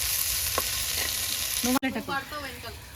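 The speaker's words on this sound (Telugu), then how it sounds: "ఉల్లిగడ్డలు అయితే ఫ్రై చేసుకోవాలి ఫస్ట్ ఒక రెండు మూడు పచ్చిమిర్చి కూడా వేసేసుకున్నాము" Onions and two or three green chillies sizzle and fry in a pan over a wood fire for egg dum biryani, a steady close hiss with a stirring scrape partway through.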